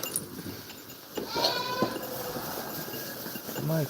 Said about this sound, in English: Literally a squished goat under here.